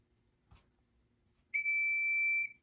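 A multimeter's continuity beep while testing the door switch of an Amana wall oven, a single steady high-pitched electronic tone lasting about a second, close and clear after a faint click.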